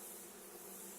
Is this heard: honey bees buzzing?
yes